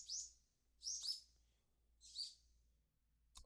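Birds in a video game let out three short, bright chirps spaced about a second apart, faint and isolated against near silence.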